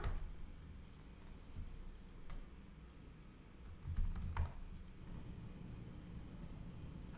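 Someone types an email address on a computer keyboard, producing sparse, soft key clicks in a short, irregular run against a quiet room background.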